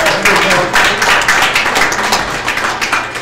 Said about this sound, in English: give yourselves a round of applause for coming out this evening